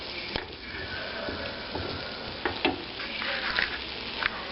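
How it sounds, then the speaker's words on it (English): Vegetables sautéing in butter for a low-carb stuffing, a close, continuous sizzle with occasional spoon knocks and stirring scrapes, no voices. "I'm going to saute these until they get soft and just a wee bit of color on them"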